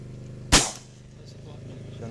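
A single loud, close shotgun blast at hunting practice, one sharp crack with a short, decaying tail, followed by quiet background.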